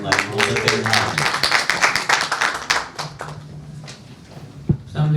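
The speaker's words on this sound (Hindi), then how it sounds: "भरपूर तालियां तो होनी चाहिए हमारी मोहब्बत के लिए।" An audience at a media briefing for a music show claps in a brief burst of applause that fades after a couple of seconds, under and then followed by someone speaking.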